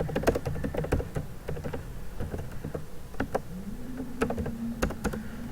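Steady typing on a computer keyboard while writing C code: sharp, close key clicks in an irregular rhythm over a low background hum.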